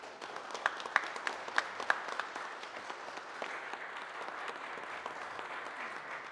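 An audience at a Mexican economic inclusion forum inauguration claps, with a few sharp individual claps near the start swelling into steady, moderately distant applause from the crowd.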